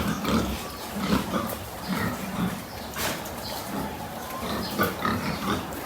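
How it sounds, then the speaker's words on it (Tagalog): Pigs on a fattening farm grunt and squeal steadily, a busy chorus of many animals close by with some clatter of pens, and no voices. "Ito naman sa mga baboy po namin."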